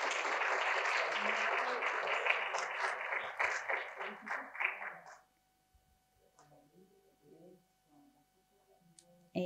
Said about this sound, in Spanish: Un fuerte aplauso para Ernesto.